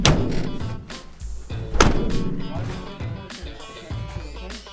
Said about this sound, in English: it's probably a good idea that we check that these doors actually shut